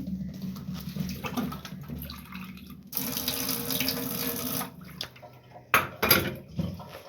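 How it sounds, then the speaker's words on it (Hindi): Water runs from a tap and splashes into a pot holding crushed jaggery, a steady gush for a couple of seconds followed by a few short bursts and clinks. "और फिर इसमें थोड़ा सा पानी डालूंगी, इसको अच्छी तरह मेल्ट करूँगी।"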